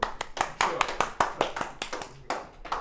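Rapid hand clapping in a classroom after a chemistry answer, a string of sharp claps over about three seconds with occasional voices mixed in.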